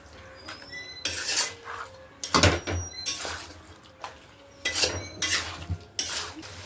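Mutton for kosha is stir-fried in a pot, with loud, close bursts of utensil scraping and clanking against the metal coming in irregular strokes separated by brief quieter pauses.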